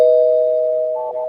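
A single spoiler bell sound effect rings as a clear, sustained ding-dong chime with a brighter second strike, heard alone for just over a second.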